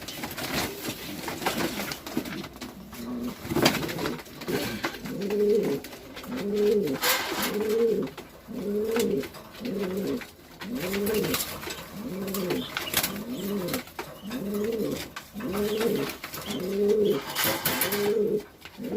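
Racing pigeons coo over and over in a loft, deep rolling phrases repeating in a steady rhythm at close range, with faint rustles and a few chirps between calls.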